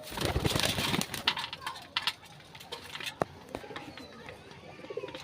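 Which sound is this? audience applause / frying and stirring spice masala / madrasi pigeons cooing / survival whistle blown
madrasi pigeons cooing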